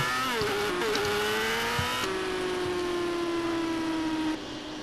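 A new motorcycle's engine hums and revs close by, its pitch rising and dipping before holding a steady droning tone that fades slightly at the end, with no talking.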